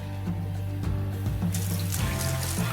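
Water is poured and splashes on the ground at a gold mining site, a gurgling, trickling rush layered over the steady low drone of heavy machinery.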